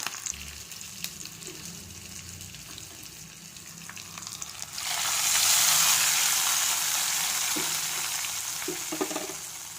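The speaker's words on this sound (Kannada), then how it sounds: "ಜೀರಿಗೆ ಸಾಸ್ವೇ ಹಾಕಿ ಒಗ್ರಣೆ ಮಾಡ್ಕೋಬೇಕು" Cumin and mustard seeds frying in hot oil for a tempering, a soft sizzle that swells suddenly midway into a loud, steady hiss with faint crackles and occasional clinks of a stirring spoon.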